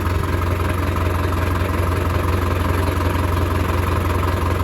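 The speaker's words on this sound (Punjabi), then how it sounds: "ਨਵੇਂ ਹੀ ਲਿਆ ਆਪਣੇ ਪਿੰਡੋਂ 4x4 ਟਰੈਕਟਰ ਅਰਜਨ ਨਵੀਂ ਮਸ਼ੀਨ ਆ" A new 4x4 Arjun tractor engine runs at a steady idle close by, a constant low throbbing drone with no voices.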